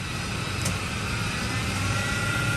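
A 1985 Hardinge HLV-H super precision tool room lathe runs its spindle steadily at 2,000 RPM, giving a constant dense whirring hum with no breaks or changes in speed.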